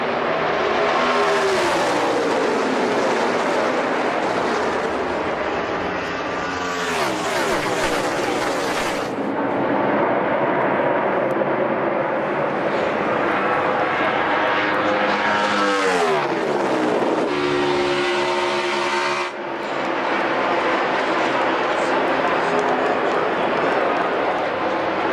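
NASCAR stock cars racing side by side, loud engine roars sweeping past in repeated surges with Doppler drops, under excited commentary.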